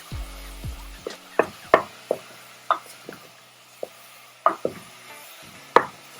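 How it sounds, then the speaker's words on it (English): A wooden spoon breaks up ground meat browning in a pan for chili, giving a series of separate soft knocks and scrapes against the pan over a low sizzle, close, with no talk. "I'm using a wooden spoon because it just helps for me to crumble the meat better."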